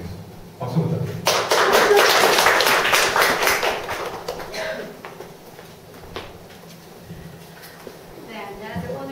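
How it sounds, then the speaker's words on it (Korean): An audience at a small Korean mentoring talk applauds together, a dense burst of clapping that peaks early and tapers over several seconds, with a voice speaking as the clapping fades. "박수 부탁드립니다."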